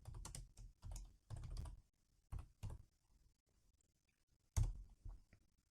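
Computer keyboard typing in a spreadsheet program: several quick bursts of close, crisp key clicks separated by short pauses, then a final few isolated taps in a quiet room.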